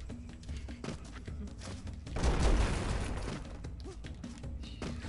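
Explosions burst in the Broforce video game, a dense crackling blast swelling in the middle and fading into rumbling debris over steady background game noise.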